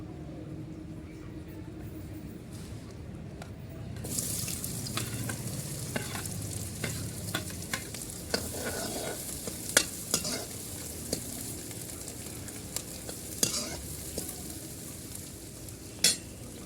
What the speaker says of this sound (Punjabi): ਆਪਾਂ ਪਿਆਜ਼ ਤੇ ਹਰੀ ਮਿਰਚੀ ਪਾਵਾਂਗੇ ਲਓ ਜੀ ਧੂਆਂ ਛੱਡਣ ਲੱਗ ਗਿਆ ਤੇਲ ਆਪਣਾ